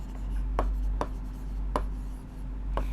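A pen writes on a board with a few short scratchy strokes and brief pauses in between, close and fairly quiet, with no talking.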